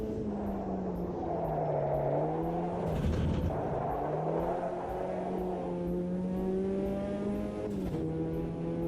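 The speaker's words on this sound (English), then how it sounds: "I think it's got a little turbo on this car." A race car engine in Automobilista 2 roars steadily with rising and falling revs and gear shifts, a game-like motor drone with a faint turbo whine over it.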